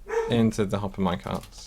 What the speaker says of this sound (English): You can probably hear my dog barking.